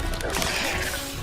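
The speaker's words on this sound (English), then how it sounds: "Confringo!" A Confringo spell cast in Hogwarts Legacy, a dense crashing burst that fills the whole short moment at steady loudness, with no talk.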